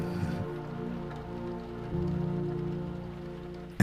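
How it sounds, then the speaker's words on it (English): Rain dripping steadily into the chamber of a ruined chapel, a soft continuous patter with a low rumbling undertone, ending in a sudden louder knock at the very end. "the sound of dripping rain can be heard coming through in several sections"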